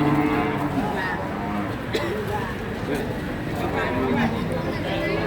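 Cattle low amid the bustle of the Jatirogo cattle market, where a large PO-breed breeding cow is on sale; faint moos sit under someone talking close by, with crowd murmur throughout.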